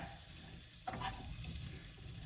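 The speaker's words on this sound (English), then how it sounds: "We're gonna saute our peppers and our onions" Peppers and onions sauté in a pan for fajitas, giving a steady low sizzle with a brief louder burst of stirring partway through and no voices.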